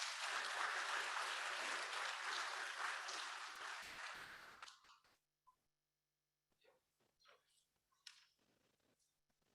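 Audience applause for a speaker at a University of Alabama graduate orientation and welcome, loud and dense for about five seconds before fading out, leaving a few scattered claps and faint room noise.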